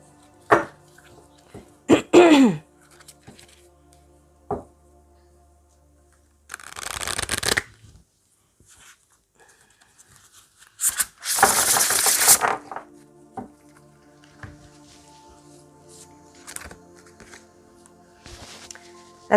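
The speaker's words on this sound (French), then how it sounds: "Je vais tirer quelques cartes pour terminer avec l'oracle des vampires." Vampire-themed oracle cards are shuffled and drawn, giving a few quick riffling bursts and a longer dense shuffle between quiet stretches. There are small clicks and handling noises, a brief cough, and the sound is close.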